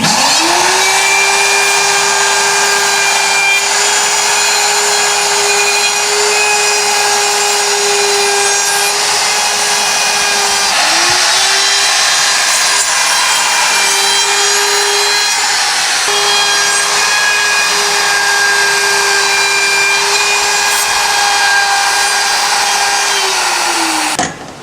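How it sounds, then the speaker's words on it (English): A router cuts the corners of a wooden raft deck panel, its high motor whine held steady and close for long stretches, dropping briefly between passes as the bit bites into the wood with a rough grinding edge. "so I'm going to router the corners."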